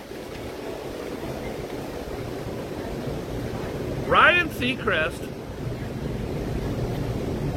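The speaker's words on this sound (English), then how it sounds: "it's very windy out here." Wind blows outdoors by the water, a steady rushing roar that fills the whole stretch, with a voice briefly speaking over it near the middle.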